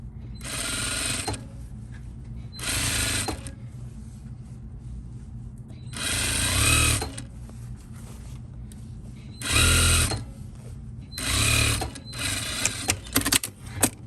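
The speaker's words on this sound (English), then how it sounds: "I remove my pin, and now I start sewing" Sewing machine stitching fabric, heard in several bursts of steady whirring, close and loud, with short pauses between runs and quicker stop-start bursts toward the end.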